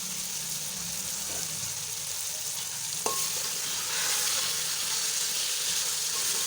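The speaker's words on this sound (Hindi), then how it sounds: "अब ये मैंने आलू मटर जो लिए हैं वो भी साथ ही डाल देंगे ताकि मसाले के साथ ही ये भुन" Potato and pea pieces fry with spices in a pan for aloo matar pulao, a continuous close sizzle and hiss with occasional stirring scrapes and a sharp clink of a utensil midway.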